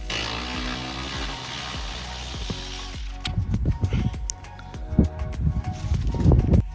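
A ratchet wrench undoing rear seat bolts in a Ford Escort, with a burst of rapid clicking followed by uneven bursts of metallic ratcheting and clanks, close and fairly loud after a quieter opening stretch.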